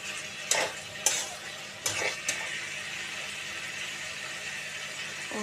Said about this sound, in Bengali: বড়িগুলো দিলাম বড়িগুলো নাড়িয়ে চাড়িয়ে